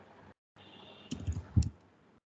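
Two crisp computer mouse clicks, about half a second apart, pressing an apply button in MySQL software; close and quiet, with faint background hum and no talking.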